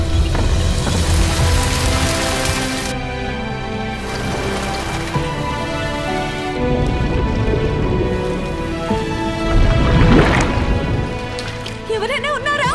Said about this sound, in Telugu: నగరంలో 2 రోజుల నుండి భారీ వర్షాలు కురుస్తున్నాయి.